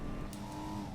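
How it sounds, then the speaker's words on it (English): Muffled car engine heard from the cockpit view in the racing game Need for Speed: Porsche Unleashed, a steady low drone held for about a second with no talk over it. "When you use the internal view like this, the car engine noise is muffled to give an impression of an internal"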